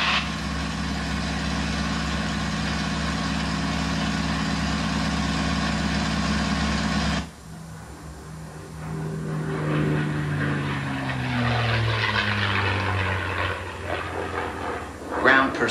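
A P-51 Mustang's propeller engine in flight, a loud steady drone that suddenly drops lower, then carries a shifting, wavering pitch as the aircraft maneuvers to break over the airport.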